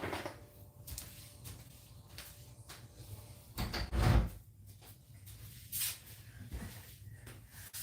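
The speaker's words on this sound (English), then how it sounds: "I'll close the door again." Door being closed indoors, a brief scraping swing followed by a soft thud near the middle, amid faint rustling and clicks.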